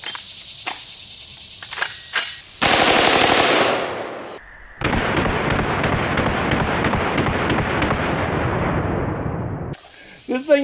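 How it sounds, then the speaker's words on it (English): A CMMG MKW rifle chambered in 458 SOCOM firing full-auto at a lock, with a few single shots, then a loud sustained burst of rapid close gunfire, a second long roaring burst, and more shots at the end. "we're going to step it up to the CMMG MKW chambered in 458 SOCOM and see if it can stop this."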